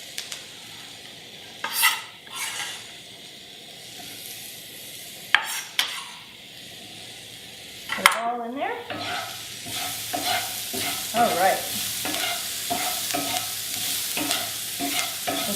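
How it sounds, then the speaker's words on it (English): Zucchini sautéed over high heat with onions, basil and oregano for penne pasta, sizzling steadily as a spoon stirs and scrapes the pan in repeated bursts, louder and busier in the second half. "Let's add our zucchini and give it a quick saute."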